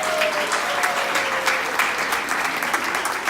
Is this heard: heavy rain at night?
no